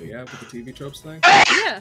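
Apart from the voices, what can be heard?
sneeze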